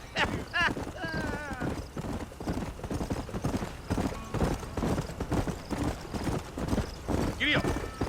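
A horse gallops in the Western video game Red Dead Redemption, with rapid rhythmic hoofbeats throughout, loud whinnies near the start and end, and speech over the top.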